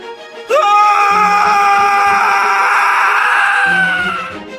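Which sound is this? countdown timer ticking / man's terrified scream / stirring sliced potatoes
man's terrified scream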